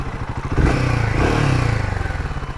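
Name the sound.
Royal Enfield Himalayan 450 motorcycle riding on the road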